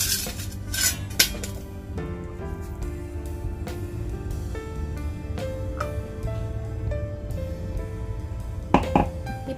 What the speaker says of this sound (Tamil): இதை வந்து ஒரு பவுலில் ஊற்றிக்கலாம்.